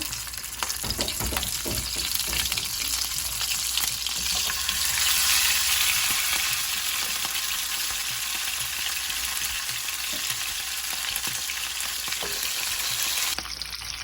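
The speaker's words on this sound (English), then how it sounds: "Now the meat is frying, so I'm gonna let it fry like till it's golden." Beef sizzles and crackles steadily in hot oil, a dense, continuous frying hiss with scattered pops and occasional stirring clinks throughout.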